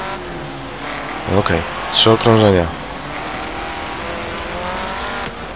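Buggy race cars in the video game Forza Horizon 3 rev their engines in short rising bursts over a steady engine drone, with someone talking close over the game sound.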